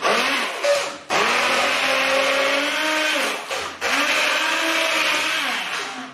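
An electric mixer whirs loudly and continuously as it beats whole eggs with sugar for a Tarta de Santiago batter, its motor pitch dipping briefly twice.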